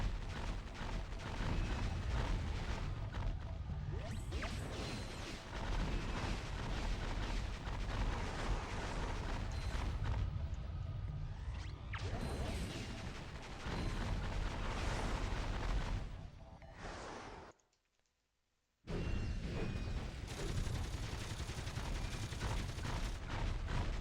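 Dense, continuous weapon fire and explosive blasts from a Ratchet & Clank shootout on PS2, loud and sustained with rumbling impacts, briefly cutting to near silence before the barrage resumes.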